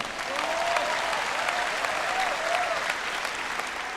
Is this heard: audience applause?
yes